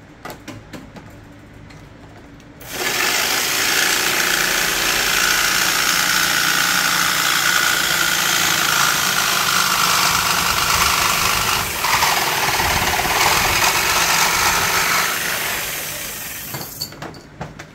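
A jigsaw cutting a gear lever cover for a Hyundai Veracruz, a loud steady buzzing saw run that starts abruptly after a quiet lead-in, holds for about fourteen seconds, then winds down and stops.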